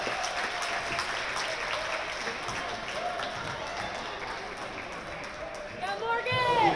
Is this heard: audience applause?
yes